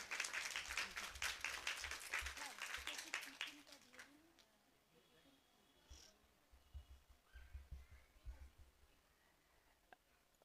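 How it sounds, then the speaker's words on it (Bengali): Audience applause at a live closing-ceremony programme of Tagore songs and dance-drama, a dense burst of clapping in a hall for the first few seconds that fades into scattered claps and murmurs. "ওর জন্য একটা জোরে করতালি।"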